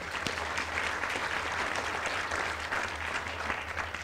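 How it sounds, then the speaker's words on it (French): A seated audience at a conference session applauds steadily for a speaker being introduced, a dense, even patter of many hands clapping throughout with no voices. "Thierry Dias, on peut l'applaudir, merci."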